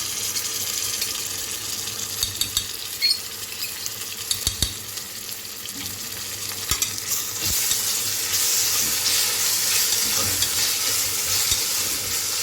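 Ginger garlic paste frying in a pressure cooker while being stirred, a constant hissing sizzle with occasional clicks and scrapes of the spoon against the metal pot, the sizzle growing louder and brighter toward the end, no voices.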